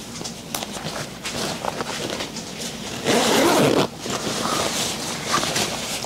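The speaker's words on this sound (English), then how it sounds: "You can zip it up in two different spots" A zipper is pulled on a knitted moto jacket, with fabric rustling and handling noise around a loud, raspy zip lasting under a second, recorded up close.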